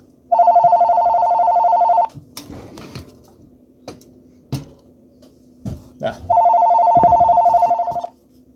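A telephone rings in a radio studio, two loud, steady electronic trill bursts near the start and end, separated by handling clicks and knocks from nearby.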